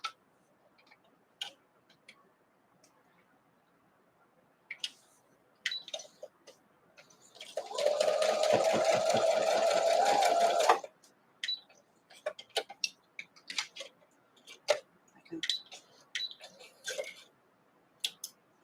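A sewing machine stitches a quilt block for an Imperial T block, running in one steady whirring burst of about three seconds mid-clip, framed by scattered clicks and small handling ticks before and after.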